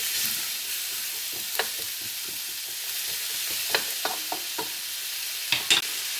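Chicken stir fry ingredients sizzling in a hot pan, a steady hiss of frying with scattered sharp clicks and scrapes as they are stirred, close and alone without talk.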